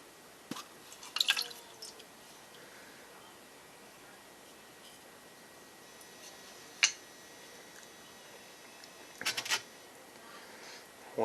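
Water dripping out of the opened carburetor bowl of a Murray lawn mower with a 5HP Briggs engine, a few sparse, quiet drips and ticks scattered over a faint hiss, no voices.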